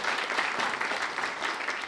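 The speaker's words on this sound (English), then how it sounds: "would you all join me just in a round of applause thanking Christopher for his intervention as well?" A conference audience gives a steady round of applause, dense even clapping filling the room for a couple of seconds without pause.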